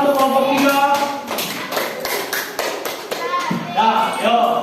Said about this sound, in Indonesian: beri tepuk tangan untuk kelompok 3